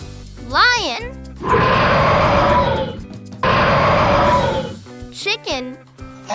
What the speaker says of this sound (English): Lion.